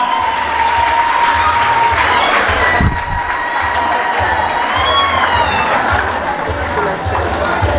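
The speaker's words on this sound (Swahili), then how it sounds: "Tutambue kwa makofi tafadhali." Audience applause at a seminary graduation ceremony, a dense crowd clapping with some cheering and voices mixed in, loud and sustained throughout.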